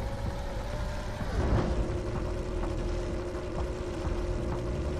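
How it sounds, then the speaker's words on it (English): In Jak and Daxter, a zoomer hover vehicle's engine drones steadily with a tonal hum that bends downward in pitch once, over a constant low rumble. "Custom exhaust noises."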